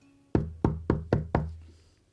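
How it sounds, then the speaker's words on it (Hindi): Five firm knocks on a room door at a hospital, evenly spaced and close, the last one fading out with no voices. "कमरे के दरवाजे पर दस्तक दी"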